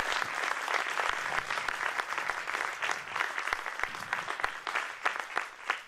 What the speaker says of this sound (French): Donc vraiment, on peut vraiment les applaudir.